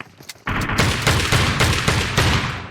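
Shotgun fire in the mobile battle-royale game PUBG Mobile: a burst of loud, close blasts, one after another, with a sharp crack at the start of each.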